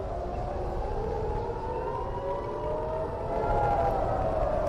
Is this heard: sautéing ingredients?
no